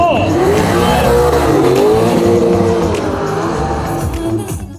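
An LS V8-powered Toyota KE70 Corolla race car roars loudly at Calder Park, revving hard with tires squealing as the engine pitch rises and falls, close and continuous throughout.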